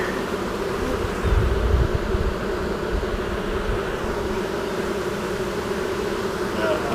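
A relocated honeybee swarm in a hive gives off a steady, dense buzzing hum, close and continuous, with a brief low thump near the start.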